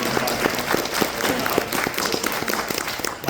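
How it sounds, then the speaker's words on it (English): Applause from a crowded audience hall at VidCon, dense and steady throughout with scattered individual claps standing out near the front. "I just wanted to give it a clap"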